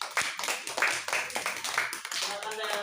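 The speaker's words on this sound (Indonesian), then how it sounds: "tepuk tangan untuk Adel" A classroom of students claps for a classmate in a brief burst of quick, uneven hand claps, with a teacher's voice over it.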